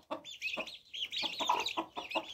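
Young turkey poults give repeated high, thin peeping calls in short bursts, several in a row, clear and close with no talk, the distressed cries of hungry, thirsty chicks.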